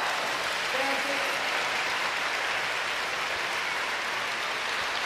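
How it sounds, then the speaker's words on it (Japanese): Okayama fans at a table tennis league match in a mall venue applaud in a continuous, even wash of distant clapping, with a commentator's voice briefly heard over it. "岡山のファンの拍手ひときわ大きくなってきました。"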